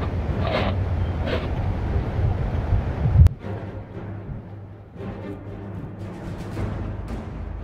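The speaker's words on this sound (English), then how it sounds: "Must just be the wind." Wind blows outdoors in wintry weather, a steady low rushing roar with a sharp knock partway through, then a quieter continuing gusty rumble, with no talk.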